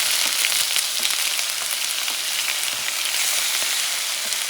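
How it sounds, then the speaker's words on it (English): Onions sautéing in coconut oil make a loud, continuous crackling sizzle with small pops, close and steady with no voices. "I also have some onions to the inside. And I'm going to saute this baby."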